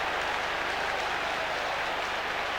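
A football stadium crowd applauds at a 1993-94 Nottingham Forest match against Bristol City, a steady, dense wash of clapping that sounds distant and fills the whole stretch without a break.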